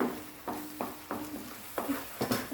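A spoon scrapes through carrot halwa cooking in a pan on a small burner over high flame, regular stirring strokes with a soft sizzle beneath, close and fairly quiet, no talking.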